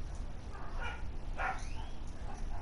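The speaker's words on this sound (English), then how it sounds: "Oh, it's a dog." Dogs play-fighting outside give a couple of sharp yips and barks over a rumbling background, fairly distant and moderately loud.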